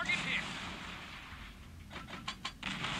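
Warship broadside gunfire in World of Warships Blitz, a rapid cluster of distant booming shots near the end of the clip over quiet engine and ambient game noise, with someone talking.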